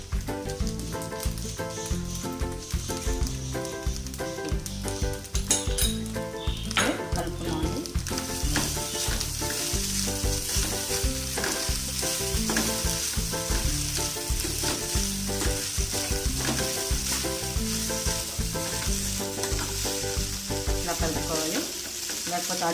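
Egg noodles made from vermicelli sizzle steadily in a pan with salt, stirred now and then as they fry, a continuous close frying hiss with scraping stir sounds over the top and no talk.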